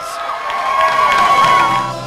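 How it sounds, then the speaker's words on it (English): A crowd cheers and screams loudly, high excited voices swelling together in a brief burst of enthusiasm. "The crowd goes crazy for him"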